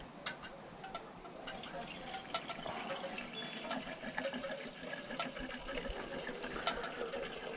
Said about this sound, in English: We're going to add this fresh gas now that I bought.